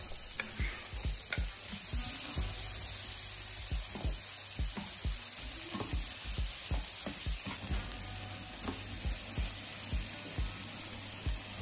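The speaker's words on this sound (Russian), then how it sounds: "Разогреваем сковородку, добавляем немного масла и отправляем обжариваться лук." Onion sizzles in hot oil in a pan, a steady crackling fry broken by frequent sharp utensil clicks and scrapes, close and fairly loud.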